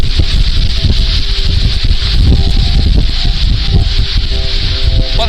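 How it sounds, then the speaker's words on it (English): Strong wind blows across a hillside in the Pentland Hills in February, a steady, loud, low rumbling roar that hits the microphone continuously with no speech. "And it's still very windy here."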